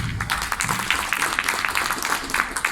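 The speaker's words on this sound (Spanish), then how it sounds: "con un fuerte aplauso" An audience applauds steadily to welcome an actress before a historical monologue, a dense wash of many hands clapping that stays fairly even throughout.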